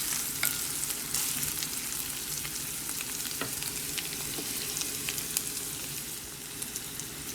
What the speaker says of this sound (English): Now I'm adding some curry leaves.